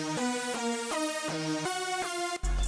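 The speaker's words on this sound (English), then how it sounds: "It's the high-end bass lead, and it sounds like this." High-end bass lead synth patch from the Expand plugin plays a repetitive pattern of bright, buzzy sustained notes with sharp retriggers, loud and close, ending in a sudden low rumble.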